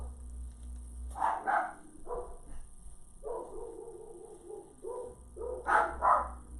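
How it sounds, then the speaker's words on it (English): Dogs shut in upstairs bark in short bursts from a distance, muffled and indoors, with a few yips and whines between the barks and no talking. "so I don't know what they're barking at."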